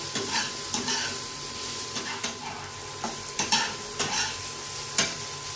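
Close-up stir-frying of okra with egg: a constant sizzle under brisk, regularly spaced spatula scrapes and metallic clicks against the pan, repeating about once a second with no speech.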